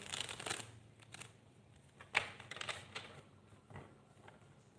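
Soft riffling and flicking of tarot cards being shuffled, several quick bursts with brief pauses between, close and quiet.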